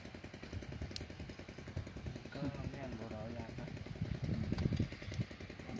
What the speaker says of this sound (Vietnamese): Lấy xe máy lôi luôn.